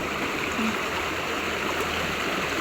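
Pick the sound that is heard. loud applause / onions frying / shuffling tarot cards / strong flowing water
strong flowing water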